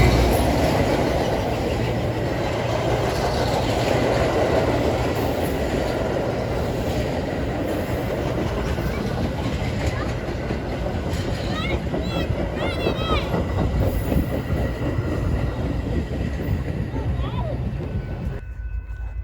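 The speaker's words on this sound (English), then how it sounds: "all trains on this line utilize the fleet of F40 variant locomotives, whether it be the F40PH-3s or the F40PHM-3s like you see here on train 1301 heading west to Aurora" A Metra commuter train led by an F40PHM-3 diesel locomotive, train 1301 heading west toward Aurora, rumbles past in a long, steady roar of engine and rolling wheels, with faint squeals near the end.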